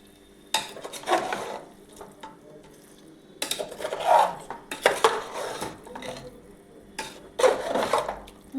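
Mutton kosha being stirred and mixed in a pan, intermittent bursts of scraping and rubbing against the metal with faint sizzling between strokes, close and fairly loud.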